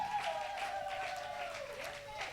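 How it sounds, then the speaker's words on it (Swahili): A church congregation claps for the Lord during a Thursday worship service, a moderate wash of many hands under a sustained held voice or tone, fairly faint and continuous. "Pigie Bwana makofi."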